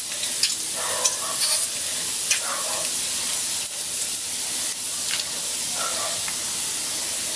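Water spinach stems stir-frying with oyster sauce in a pan give a steady close sizzle and hiss, with occasional scraping stirs over it.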